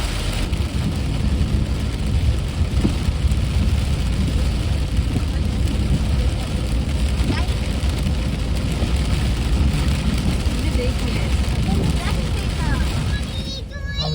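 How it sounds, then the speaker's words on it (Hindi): Heavy rain roars continuously against a car driving on a highway near Hyderabad, a dense, loud wash of noise with road rumble underneath. "भयंकर बारिश आ रही है।"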